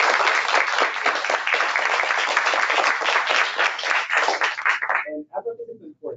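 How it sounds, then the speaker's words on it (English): A panel-discussion audience gives a dense, loud round of applause that holds steady, then breaks off abruptly near the end into a few scattered claps and a voice. "We give our round of applause."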